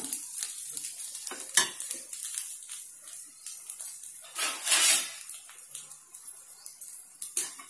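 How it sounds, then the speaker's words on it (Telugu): Idlis roasting in butter on a street-food tawa, a soft crackling sizzle broken by repeated metal spatula scrapes and taps against the pan, close but fairly quiet, with no one speaking. "చూసారా మంచిగా రోస్ట్ అవుతున్నాయి బటర్ అంతా పట్టేసిందండి"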